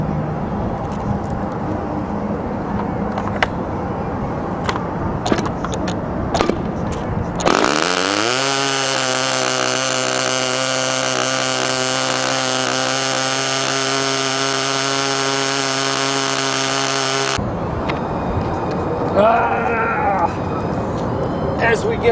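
A nitro RC model airplane engine, a Strega ARF fitted with a new header, runs at a steady loud high-revving buzz for about ten seconds in the open air, with outdoor clatter before and after.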